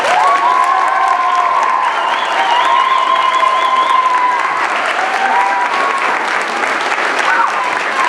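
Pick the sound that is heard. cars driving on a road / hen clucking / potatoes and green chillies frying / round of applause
round of applause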